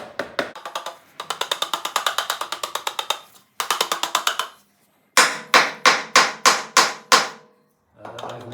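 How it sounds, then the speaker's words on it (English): A rubber hammer taps the sides of a sand-filled titanium exhaust tube in quick rhythmic bursts, strings of sharp close knocks separated by short pauses, then slower heavier single blows near the end. "with a rubber hammer I will tap the sides to make the sand lower itself into the tube"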